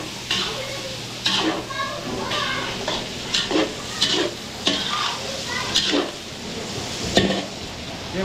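Chopped garlic and onion sauté in a hot pan at a catering cookout in Mabalacat, Pampanga. A steady sizzle runs under repeated utensil scrapes and stirring knocks, with voices in the background.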